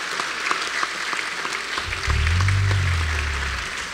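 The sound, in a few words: applause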